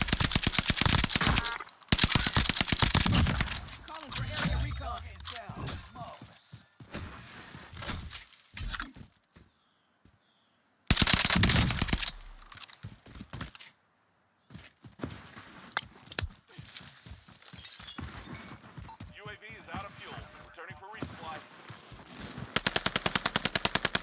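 Bursts of automatic gunfire from an SMG in Call of Duty Warzone, loud rapid volleys with a gap of near silence midway, then more sustained shooting and crackling impacts.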